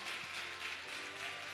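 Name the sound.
congregation applauding in church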